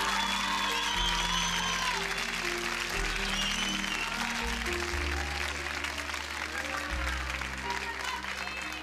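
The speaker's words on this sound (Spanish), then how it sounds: "Más fuerte el aplauso" Television talent show audience applauds a singer sent to the final elimination round, a steady, full wash of clapping with music or tones and some voices mixed underneath.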